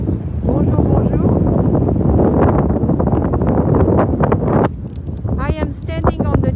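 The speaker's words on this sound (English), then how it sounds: "It's very windy." Strong wind buffeting outdoors on the tip of the Ile Saint Louis in Paris, a loud, continuous gusty roar over the microphone, with people talking through and over it, especially toward the end.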